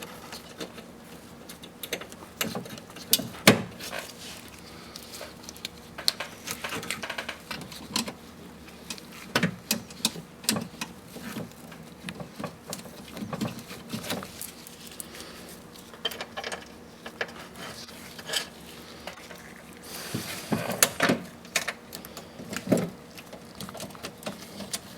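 Irregular metallic clicks, ratcheting and taps continue for a long stretch as a window motor is bolted into place in a Toyota Camry door, moderately close, with occasional louder knocks.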